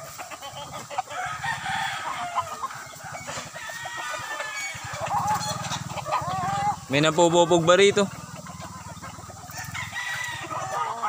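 Mixed hens and roosters at a derby gamefowl farm cluck steadily, and a rooster crows loudly once near the middle, while people talk nearby.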